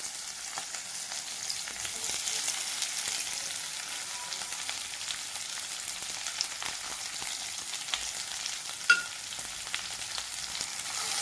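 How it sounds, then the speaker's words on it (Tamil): Finely chopped small onions sizzle in a pan for a tomato gravy, a soft, steady frying hiss that continues throughout with faint occasional stirring clicks and one brief knock near the end. "இப்போ நல்லா வெங்காயம் வதங்கி வரட்டும்."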